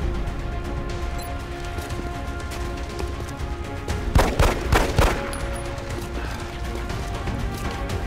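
Gunfire in the XCOM Long War strategy video game: a few sharp shots cluster midway through, loud against a steady game soundscape of ambient hum, with no talking.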